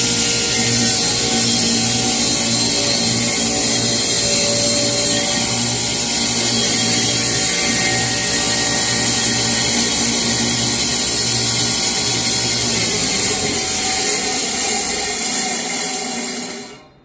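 A power saw cuts wood for a bathroom vanity, giving a loud, steady, continuous whining buzz that holds for about sixteen seconds before abruptly cutting off.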